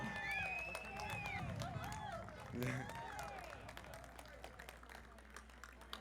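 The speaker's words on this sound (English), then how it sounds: "Ladies and gentlemen, another round of applause." A parade crowd at a city Armed Forces Day parade in Torrance applauds faintly from a distance while an announcer's voice carries over the thin, scattered clapping.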